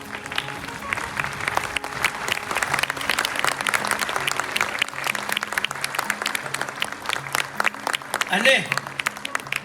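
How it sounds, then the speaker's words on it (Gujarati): An audience rises and applauds at the inauguration of a World Kidney Day awareness event, with steady, dense clapping from a crowd filling the whole stretch and a brief spoken word near the start. "આપણે સૌ તેમના ઊભા થઈને તાળીઓના નાદથી વધાવી લઈએ, પ્લીઝ।"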